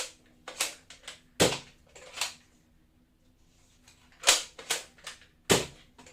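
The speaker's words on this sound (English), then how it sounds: "now I'll show you it firing. Firing a couple normal Nerf mega darts" A Nerf Fortnite Flare blaster is primed and fired with Nerf mega darts, giving a series of close, sharp plastic clacks and snaps in uneven bursts with a short quiet gap in the middle.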